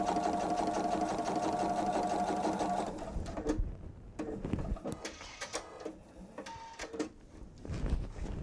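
A sewing machine top stitching a quilted travel tote runs in a steady, even whir for about three seconds, then stops, leaving scattered clicks and handling noises up close.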